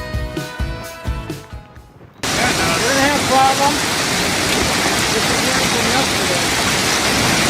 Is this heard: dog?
no